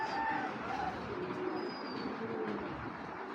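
Racing club pigeons coo softly in short, faint calls over a quiet background hiss, with a few light chirps and no voices.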